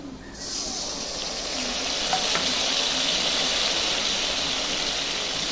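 Nigella seeds and potatoes drop into hot oil and burst into a loud, steady sizzle of frying that holds evenly from start to finish, a close and continuous hiss with no voices over it.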